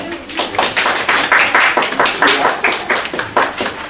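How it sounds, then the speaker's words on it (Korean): Parents at a school information seminar clap to welcome the host, a loud, close round of hand claps with rhythmic swells across its few seconds. "박수로 한번 모시겠습니다"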